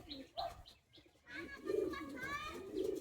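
Pigeons at a high-flying pigeon loft give short bird calls and soft coos, close and intermittent, followed by steadier harmonic warbling calls with no one talking.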